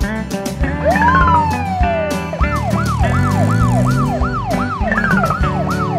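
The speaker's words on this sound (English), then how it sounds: "Italy, police car." Italian police car siren, loud and near, opening with a long falling sweep and then repeating rapid rising-falling whoops in a steady rhythm over engine and road noise.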